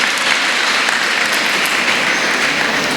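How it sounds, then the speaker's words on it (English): A large audience at a World Space Week event held at a school with ISRO applauds loudly and continuously, a dense, even roar of clapping lasting a few seconds. "Big round of applause, please."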